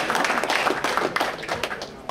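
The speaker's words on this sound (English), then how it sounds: "give yourself a hand clap today for being faithful to the house of the Lord" A church congregation claps hands together in a burst of brisk, uneven applause, close and lively, with a voice speaking faintly beneath it.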